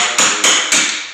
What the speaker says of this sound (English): Go in here and chisel that wood out of here.